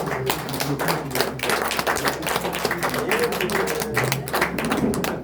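A crowd applauds at a talk on being Palestinian: sustained, dense, steady clapping from many hands, close and fairly loud throughout, with faint murmuring underneath.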